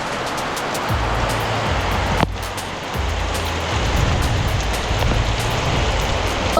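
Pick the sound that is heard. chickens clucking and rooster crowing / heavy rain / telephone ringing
heavy rain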